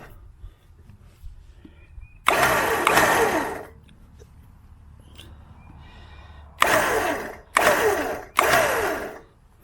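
An electric winch pulls synthetic rope to snug it up before pulling a Jeep, whirring in one long burst and then three short, loud motor bumps separated by quiet pauses.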